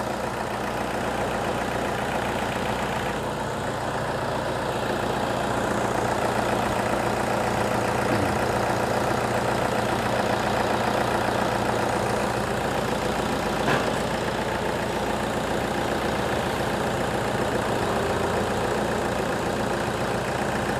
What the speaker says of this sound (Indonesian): Kita tunggu sedikit memanas untuk kondisi mesin, nanti temperatur setengah.